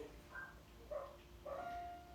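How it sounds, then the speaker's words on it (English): Neighbouring dogs give a few faint, distant barks and whimpers, heard during a quiet indoor chair yoga session. "I apologise in advance for my neighbour's charming dogs."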